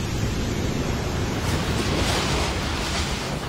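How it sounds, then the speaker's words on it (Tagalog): Strong waves crash against a resort in Dipaculao, Aurora, during a storm, a steady loud roar of surf and wind that fills the whole moment without a break. "Sa Aurora hinampas ng malalakas na alon ang isang resort sa Dipaculao."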